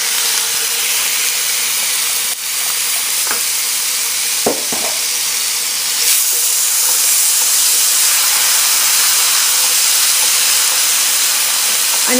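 Tomatoes and tomato paste frying in a pan, a loud continuous steamy sizzle and hiss running throughout, with a couple of faint clicks partway.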